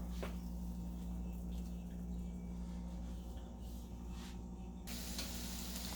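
Vada for vada pav frying in hot oil, a steady close sizzling hiss over a low hum, continuous throughout with a few faint clicks.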